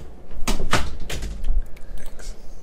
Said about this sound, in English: He closed my door.